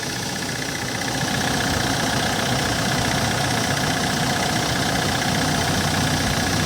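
A steady, rumbling CRDI diesel engine of a Hyundai Porter Super Cargo truck idling close by, an even mechanical drone with a faint knocking texture and no other sounds.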